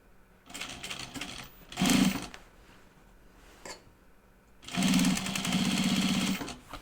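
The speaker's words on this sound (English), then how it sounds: "Now is the time when you might want to be hand stitching with your hand wheel, 1 stitch at a time." A sewing machine stitches binding on a fabric project bag, running in short slow bursts between pauses, with faint clicks as the hand wheel is turned one stitch at a time.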